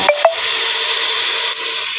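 Water poured into a hot pan of fried rice for Bengali basanti pulao sets off a sharp hissing sizzle, with two quick crackling bursts up front, then a steady close steam hiss.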